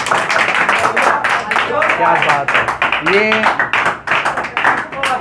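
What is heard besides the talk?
audience clapping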